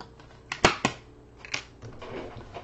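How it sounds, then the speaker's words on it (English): A small die-cutting machine cranks paper through for a card project, giving a few sharp mechanical clacks and crunches close by, with quieter rustling between them. "we're going to die cut that"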